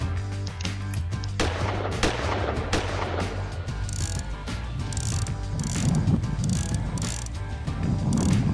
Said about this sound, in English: Now let's go shoot some shit.